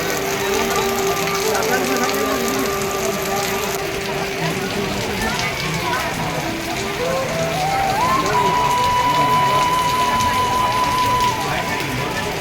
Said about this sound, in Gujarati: ધોધમાર વરસાદ બંધ થવાનું નામ લેતો નથી